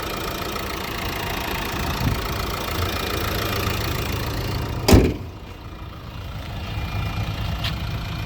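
A steady low idle from the 110 hp 1.5 K9K diesel engine of a 2018 Renault Megane hums throughout, with a sharp clunk or bang near the middle and a faint click later on.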